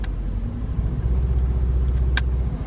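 A Mercedes C63 AMG in sport plus mode gives a steady, loud low rumble of exhaust and engine, close by and continuous, with no talk over it.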